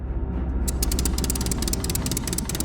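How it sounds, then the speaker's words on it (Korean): A Focke-Wulf Fw 190 fighter plane's heavy engine rumbles and catches, settling into a loud, rapid propeller-like chugging that fills the space. "우렁찬 엔진 소리가 조용하던 기지 안에 울려 퍼졌다"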